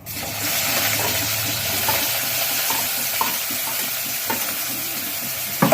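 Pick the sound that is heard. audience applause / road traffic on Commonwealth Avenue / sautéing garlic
sautéing garlic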